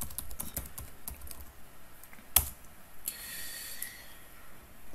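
Keys clatter on a computer keyboard as a command is typed, a run of quick close taps followed by a sharper keystroke and a few scattered presses, with faint breathing nearby.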